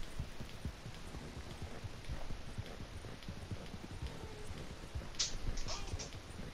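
Horse hooves clip-clop steadily at a walk in the video game Red Dead Redemption, a fairly close, rhythmic clopping over a soft background of rain, continuing throughout with a few brighter scrapes near the end.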